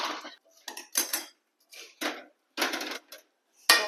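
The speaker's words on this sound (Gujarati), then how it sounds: "આ રીતે નીચે એકદમ ધીમો ગેસ છે અને આ રીતે હલાવતા રહેવાનું છે." Puffed rice stirred in a pan over a very low gas flame while making jaggery puffed-rice laddoos, giving bursts of dry rustling and clinking scrapes separated by short pauses.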